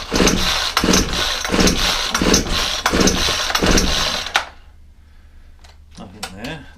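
Several rapid pull-cord yanks on a Ryobi 4-stroke string trimmer set on choke, each a harsh rasping burst in a steady rhythm without the engine catching, then near silence with a few faint clicks and brief handling noise.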